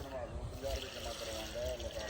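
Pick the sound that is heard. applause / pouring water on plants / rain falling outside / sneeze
pouring water on plants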